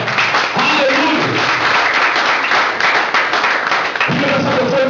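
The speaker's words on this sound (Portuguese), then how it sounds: "Dá uma grande salva de palmas para o Senhor" Church congregation applauding together, dense sustained clapping for several seconds with a voice speaking over it.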